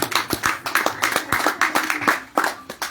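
A few people clap at a filmed radio event in Martinique, individual sharp hand claps standing out in an uneven, fairly close patter rather than a full crowd roar.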